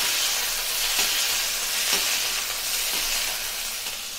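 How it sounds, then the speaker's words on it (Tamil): Steady, dense sizzling of lentils frying in hot oil for sambar, a continuous crackling hiss close up with faint occasional pops. "பருப்பு பொரிஞ்சிருச்சு."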